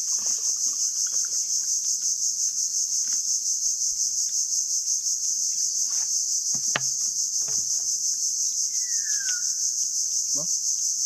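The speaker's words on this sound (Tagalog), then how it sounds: "May nagahuni-huni pa eh. May mga ibong ka maririnig." Outdoors, a loud, constant insect drone fills the air while a few brief bird calls break through, including a short rising whistle near the end, amid occasional faint background sounds.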